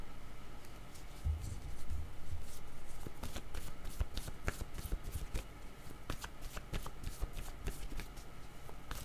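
Tarot cards shuffled by hand close up, a steady run of crisp riffling flicks and soft slaps continuing throughout, with no talk.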